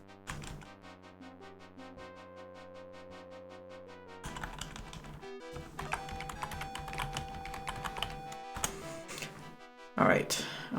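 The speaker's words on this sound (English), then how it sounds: "An old typewriter." Old Remington typewriter keys clatter in a 1992 DOS Sherlock Holmes detective game, with quick tapping bursts over steady, ominous game music and a denser flurry of strikes near the end.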